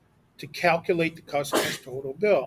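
A single sharp sneeze bursts out in the middle of a teacher's spoken algebra review, landing among steady nearby talk.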